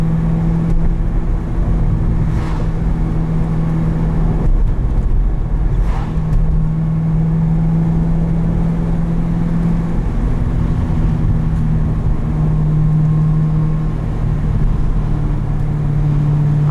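A 2010 Chevrolet Corvette ZR1 on the road, heard from inside the cabin: a steady, loud low engine drone with a sustained tonal hum that shifts in pitch slightly as it cruises, with no one talking.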